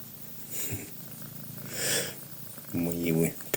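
A house cat purrs up close as someone talks softly to it, a low steady rumbling running under her voice, with a short louder purr-snort burst near the end.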